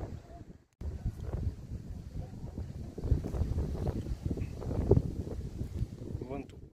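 Strong wind buffets the microphone in continuous gusty roars, with rustling and faint background sounds, loud and close throughout.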